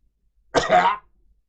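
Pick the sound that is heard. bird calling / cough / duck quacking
cough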